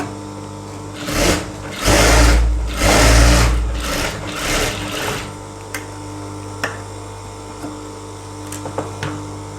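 Domestic sewing machine top-stitching the elastic hem of a child's trouser: several loud, fast whirring bursts of stitching up close, then quiet with a few sharp clicks and handling taps.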